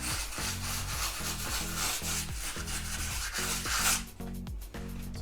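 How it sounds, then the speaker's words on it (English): Sandpaper scrubs over a drywall repair in steady back-and-forth strokes, a close, rhythmic rasping that keeps a regular pace before briefly changing near the end. "We'll go over it again, just with a little bit more, sand it down, and we should be pretty close to done."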